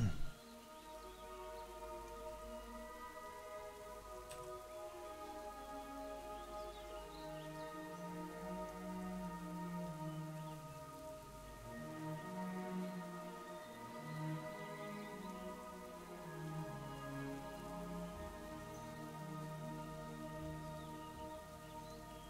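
Steady rainfall in the World of Warcraft video game, a soft continuous patter heard alongside a low melodic game music bed, even and unbroken with no talking.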